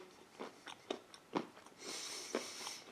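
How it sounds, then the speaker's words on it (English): Crunchy MRE nut and raisin mix with hazelnuts and chocolate bits being chewed close to the mic, several distinct crisp bites and crunches in a quiet setting, no talking. "Those are nice and crunchy."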